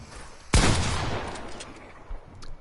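A burst of gunfire in the Fortnite video game on a console training map, one loud onset followed by a sustained rattle of shots that slowly trails off, with a few faint later pops.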